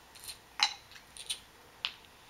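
A small lemon being chopped on a board at a picnic, a few sharp, light knife taps spaced irregularly, close and fairly quiet.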